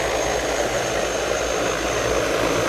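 An agricultural drone spraying herbicide over farm fields in Samsun drones on with a loud, steady propeller whine and a constant high tone that holds without a break.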